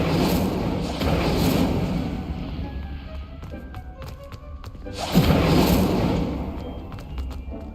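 An Incendio fire spell is cast in Hogwarts Legacy: two loud roaring, whooshing bursts of flame separated by a quieter stretch with scattered taps and crackles.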